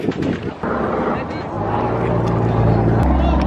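Deep, steady engine drone of a boat at Nang Yuan building up and holding, with brief voices and bumps early on.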